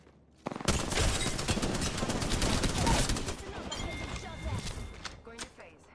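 Rapid automatic gunfire in the video game Apex Legends, a dense burst of close shots running several seconds before tapering into scattered shots and mechanical clicks, with speech-like game voices faintly mixed in.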